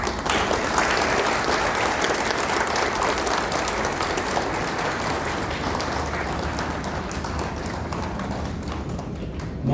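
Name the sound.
audience standing applause welcoming fire officers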